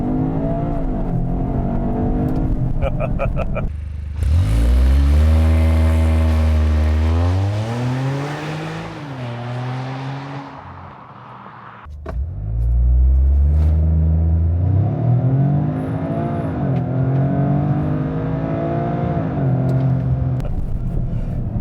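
A 2025 Toyota GR Corolla launches under launch control, its engine roaring loud and close as revs climb steadily, dipping briefly at a shift before surging again into a second sustained pull.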